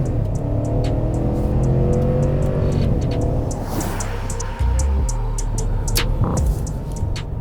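A 2023 GMC Yukon Denali Ultimate V8 accelerates in sport mode with a deep, rising engine roar heard from inside the cabin. There is a brief dip, then it pulls on strongly with faint ticking.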